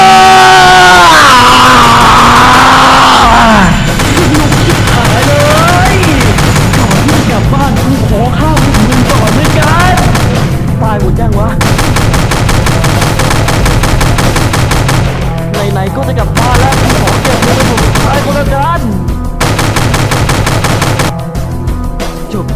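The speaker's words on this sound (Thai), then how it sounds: "และตอนนี้ผมจะฆ่าพวกมันด้วยปืนเลเซอร์ของผม" Rapid bursts of laser gun fire from a first-person horror video game set among mutant zoo animals, loud and continuous over a dense game soundtrack, with sharp repeated shots throughout.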